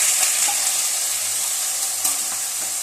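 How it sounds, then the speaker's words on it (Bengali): Onion paste hits hot oil in a pan over a high flame, giving a loud, steady crackling sizzle with a few faint stirring clicks, up close and with no talking. "গ্যাসের ফ্লেমটা আমি জোরে করে দিলাম, দিয়ে এবার আমি পেঁয়াজ বাটাটা এর মধ্যে তুলে দেব।"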